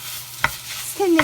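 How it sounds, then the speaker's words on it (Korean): Gondre greens are stir-fried with sesame oil in a preheated stainless pot, with a soft sizzle, a couple of sharp spatula scrapes and a brief squeak, all close up and quick. "지금은 참기름을 고소하게 좀 넣어서 볶을 거예요."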